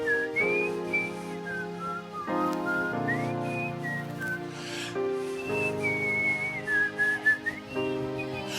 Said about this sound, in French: Banda obeta ka siffler.